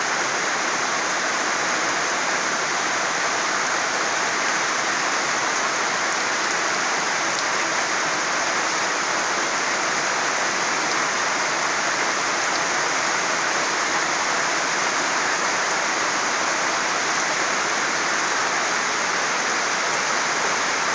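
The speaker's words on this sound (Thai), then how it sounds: "บรรยากาศ ฝนตกพี่น้อง" Steady rain falls continuously, a dense even hiss with no breaks, moderately loud and close.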